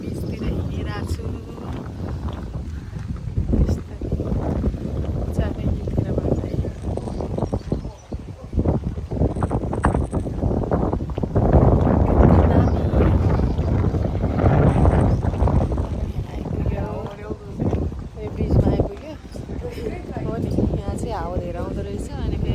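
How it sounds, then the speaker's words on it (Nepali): Strong gusting wind buffets the microphone at a Buddha garden park in Portugal, a loud, continuous low rumble over the whole stretch, with a person talking underneath. "हावा धेरै आउँदो रहेछ।"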